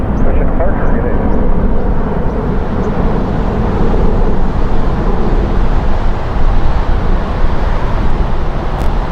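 A jet airplane rolls for takeoff at Los Angeles International Airport, a loud continuous roar filling the scene throughout, with faint radio voices underneath.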